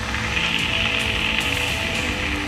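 Heavy rain pours steadily during flooding in Rajasthan, producing a dense, continuous hiss of falling water at moderate level with no break.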